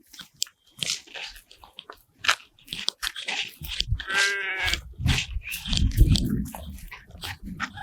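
A flock of about five hundred sheep, with rams and some goats among them, bleating in overlapping calls, with shuffling and crunching from animals moving close by.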